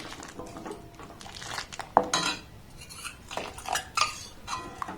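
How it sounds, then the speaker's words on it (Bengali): Custard powder is stirred into milk in a pot for a malai cake, and a spoon scrapes and clinks against the metal in irregular strokes at close range, with no voices. "অল্প অল্প দিয়ে এটাকে কিন্তু এইভাবে একটু নাড়াচাড়া করতে হবে।"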